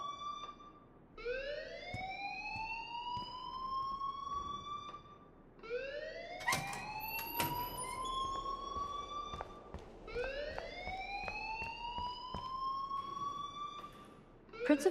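A school fire alarm in the video game Life Is Strange wails in three rising siren sweeps over a steady electronic drone. It is loud and continuous, with no talking.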